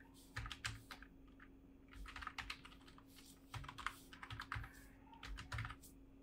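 Keys clatter on a computer keyboard as a VPS hostname is typed, in quick irregular bursts with short pauses, close and fairly quiet over a steady low electrical hum.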